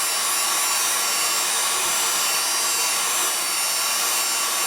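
Hair dryer blowing on wet paint, a loud steady whooshing roar close by that continues unbroken with no talking.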